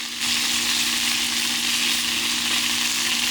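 Beans tipped into hot oil in a paella pan and stirred, a loud steady sizzle that starts abruptly and holds for a few seconds, with no talk.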